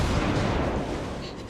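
Naval gunfire from the battleship Yamato in a warship game, a heavy booming salvo that rolls out into a long, fading rumble, loud and close.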